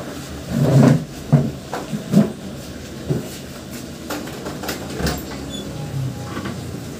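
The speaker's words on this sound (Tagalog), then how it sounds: "Buksan ko na nga lang yung pinto" A door is pulled open in a home kitchen while chicken adobo cooks, giving a few close knocks and scrapes of wood and latch over a low room hum, with no talk.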